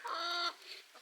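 A single hen gives a loud, close, drawn-out cluck followed by a softer trailing call on a farm, alone with no voices.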